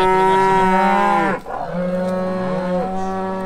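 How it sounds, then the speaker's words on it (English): A cow in a farm yard lets out two long, loud, close moos, one after the other with a brief break between. "One cow up there in the field. She's ruining it for the rest of them."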